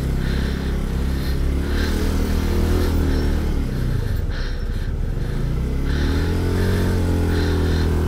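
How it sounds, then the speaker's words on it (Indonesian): A motorcycle engine labours steadily uphill on a mountain road at Bromo, a close, sustained drone whose pitch shifts as it climbs, with some clattering mixed in. "Motor masih bisa naik ya."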